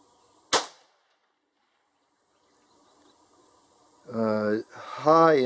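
A single sharp crack from a Rossi .22 WMR rifle during an ammunition test, loud and close, followed by quiet and then someone talking.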